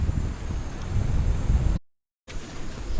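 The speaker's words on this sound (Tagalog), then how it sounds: "Ang lakas ng hangin dito" Strong wind buffets the microphone in loud, rough gusts at a campsite in Zambales, Philippines, broken by a short dropout of silence before the roaring resumes.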